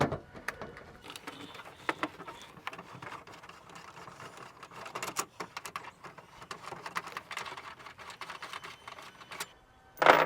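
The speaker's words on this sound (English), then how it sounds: "So just some Torx bits, undo all 4 of these" Torx screws being undone from an interior electrical panel on a next-generation Ford Ranger or VW Amarok, giving steady irregular mechanical clicking and ratcheting close by, ending in a louder rattling burst.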